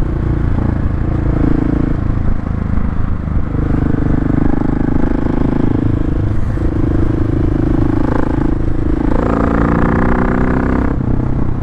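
A 2021 Husqvarna 701 Supermoto motorcycle runs under a rider, its engine note rising and falling through repeated revs and shifts amid wind rush, with a harder rev near the end.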